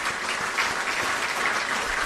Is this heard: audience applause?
yes